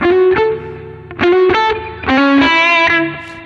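Electric guitar blues notes and chords ring out with a thick analog reverb tail for a retro sound, played in short phrases with brief pauses between them.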